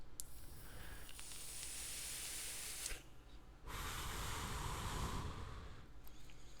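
A vape exhale hiss used as a producer tag in a beat, a broad airy spray of noise running throughout over a steady low pulse, briefly thinning near the middle before swelling loud again.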